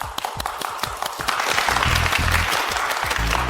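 A stage audience claps to welcome a contestant, starting with distinct close hand claps that swell into a thick, sustained round of applause with some low rumbling underneath.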